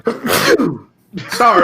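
A person sneezes after being dusted with baby powder, with a sharp burst of sound under a loud voice, then another bout of talk that quickly follows.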